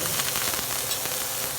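Lion's mane mushroom sautéing in a pan with dry sherry gives a brief, steady hiss and crackle of sizzling, close and even throughout, with no voices.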